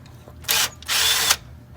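Two short bursts of a power tool whirring on a Honda Pilot's 12mm brake line retainer bolt, the first brief and the second longer, close up against a quiet background.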